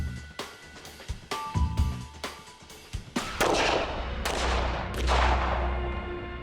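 Gunshots fired at a target ring out in a series of sharp, loud cracks, roughly ten of them at uneven intervals. Heavy booming reverberation and rumble follow, with the later shots blending into a sustained roar.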